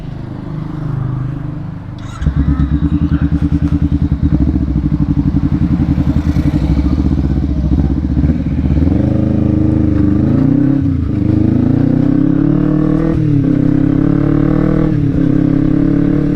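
A Kawasaki Ninja 250 FI motorcycle riding through town by day, its engine droning loud and steady with close wind rumble and shifts in pitch as it speeds up and slows down.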